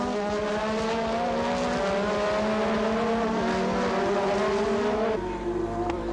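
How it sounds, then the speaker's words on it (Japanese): Formula 1 race cars from the 1985 season, Rosberg and Senna dueling with Senna's Renault-engined car among them, loud high-revving engines whining in layered tones that shift pitch as cars pass and change gear. "ロズベルグとセナが激しく競い合う。"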